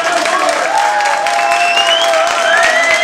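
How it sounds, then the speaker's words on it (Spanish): A bar crowd at a guitar solo contest applauds loudly in a dense, continuous roar of clapping and cheering, with high whistles rising above it. "aplausos para Noel"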